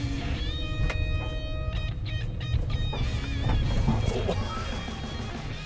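A 2020 Nissan Titan Pro-4X pickup with a 5.6-litre V8 climbing a hill, a loud continuous engine drone with whining tones that rise and shift as it pulls.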